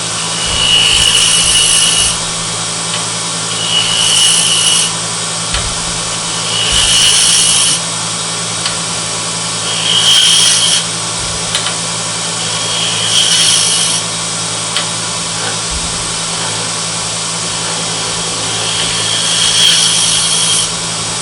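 Wood spins on a lathe while a tool makes an anchor bevel cut, a loud rough scraping hiss that rises in repeated passes every couple of seconds over a steady motor hum.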